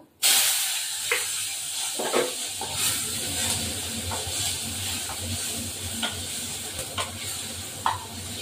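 Tomato dropped into hot oil with black cumin (nigella) seeds, a sudden loud sizzle settling into a steady close hiss, with scattered spatters and stirring scrapes throughout.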